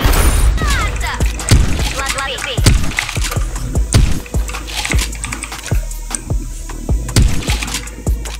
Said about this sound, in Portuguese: Olha o tiro que eu tô errando